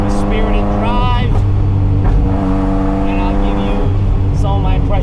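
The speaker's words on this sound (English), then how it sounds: "we're going to take her out for a little bit of a spirited drive" A Ferrari F40 engine drones loudly and steadily on a spirited drive, its pitch rising and settling as the car accelerates, with a person talking over the cabin noise throughout.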